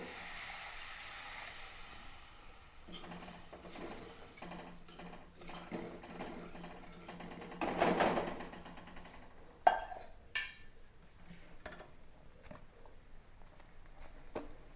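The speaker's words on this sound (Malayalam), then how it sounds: "ഇതിലേക്ക് വെള്ളം ഒഴിച്ചു കൊടുക്കാം" Water poured into a hot pan of spices with chili powder and turmeric gives a quiet, hissing sizzle. A brief louder burst and a few small clatters come partway through.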